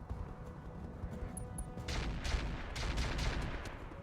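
A volley of missiles launched by a mech in the BattleTech mod RogueTech, a rapid cluster of sharp cracking bursts that begins midway and keeps firing over a low background rumble.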